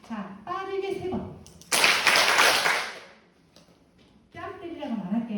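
A burst of quick hand clapping from a group of people in a body-awareness session, loud and dense for about a second, with a person talking before and after.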